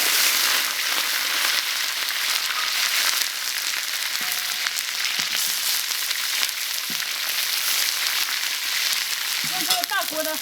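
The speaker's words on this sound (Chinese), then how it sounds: "这菜籽油烧热了，我下入这些骨头，全部给它煎一下" Fish bones fry in hot rapeseed oil in a large wok, giving a dense, loud, continuous sizzle with crackling spits throughout, and a few faint clinks near the end.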